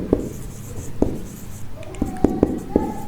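A word written by hand on a board, a series of short sharp taps and scratchy strokes at close range with pauses between them.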